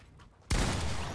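Fortnite gunfire erupts suddenly as a loud, dense burst of shots that fills the rest of the brief moment after near-silence.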